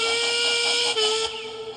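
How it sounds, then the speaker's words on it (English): A steam locomotive whistle blows loud and long in one sustained, shrill, buzzy blast that slightly falters partway through and fades near the end, with no voices. "Duncan whistled as loud and as long as he could"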